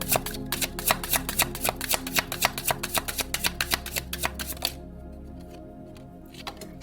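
Tarot cards riffled and shuffled in quick, crisp bursts, a rapid run of sharp slaps close by, stopping abruptly into quiet room tone with a soft shuffle at the end.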